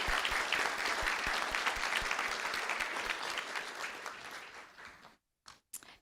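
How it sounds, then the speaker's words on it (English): A room at a school board meeting breaks into clapping for three elementary pupils, a dense round of applause that thins out and fades, ending with a few scattered last claps. "Let's give them a round of applause."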